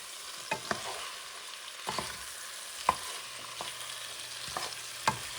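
Beef tripe being stirred in a pot for Puerto Rican mondongo soup, with a low background sizzle and irregular scraping clinks of a spoon against the pot, close and fairly quiet.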